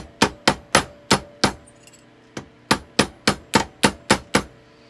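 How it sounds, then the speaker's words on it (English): Hammer tapping a fork's metal snail-shaped coil on an anvil, a string of about a dozen sharp, ringing metallic strikes, close and clear, in two quick bursts with a short pause between. "So I'm going to go to the anvil. I'm going to tap these guys down."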